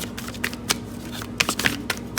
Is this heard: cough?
no